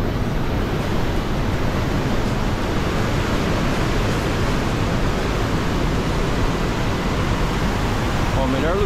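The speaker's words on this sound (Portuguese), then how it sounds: "Aqui, minha cachoeira." Dense, continuous roar of the Tietê waterfall at Salto, loud and steady throughout, a broad rushing wash of falling water with no break.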